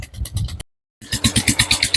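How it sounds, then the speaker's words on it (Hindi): An engine-driven water pump draws water from a borewell outdoors in hot weather, its motor chugging loudly and steadily with a regular pulsing beat, broken by a brief silent gap before resuming. "वहाँ पर वो आप देख रहे हैं कि इंजन से पानी निकल रहा है, बोर से"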